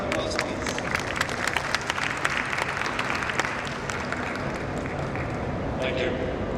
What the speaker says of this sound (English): Will be round of applause, please.